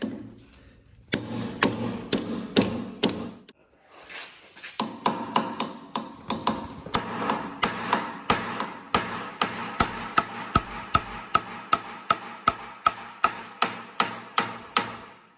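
Hammer blows striking a stuck plug on a digger, a pause after a first burst, then a steady run of loud, evenly spaced metallic smacks close by.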